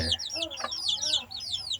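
Jungle fowl chicks give soft, repeated high-pitched clucks and peeps close by, fairly faint, with a brief low voice briefly in the background.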